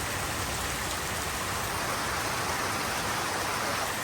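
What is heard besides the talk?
heavy rain falling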